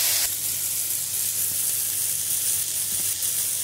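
Parasol mushrooms with parsley and lemon sizzle in a hot pan, a loud, steady, close frying hiss that continues without break.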